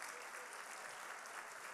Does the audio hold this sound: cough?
no